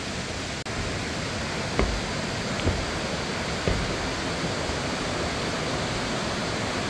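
Waterfall in Namsan valley in Cheongdo, a dense, loud, unbroken roar of falling water heard close by throughout, with a couple of faint knocks on top.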